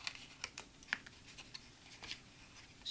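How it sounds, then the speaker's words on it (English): Scissors snipping the end piece off a paper box blank, a few short dry cuts at irregular intervals, close and fairly quiet with no talking. "we'll do the same thing for the other side, cut that end piece off"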